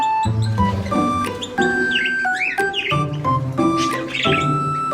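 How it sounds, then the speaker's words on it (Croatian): Many birds in an aviary chirp and whistle continuously, with overlapping bright tonal calls and rapid trills filling the space at close range. "Ptice u volijeri pjevaju"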